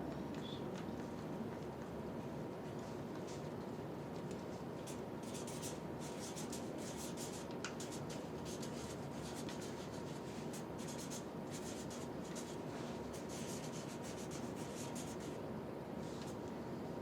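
Pen or pencil scratching across paper while a song is written out, a steady rubbing texture running the whole time over a constant room hiss, close and fairly quiet, with no talk.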